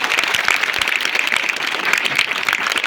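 A crowd in a school gathering claps loudly and steadily for a student, dense continuous applause with no break.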